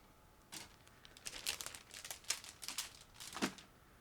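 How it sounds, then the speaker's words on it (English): A plastic bag holding parts of an ICM 1/48 OV-10A Bronco US Navy model kit is opened up close, with quiet crinkling and rustling in scattered bursts and a sharper crackle near the end. "Now I'm opening another plastic bag."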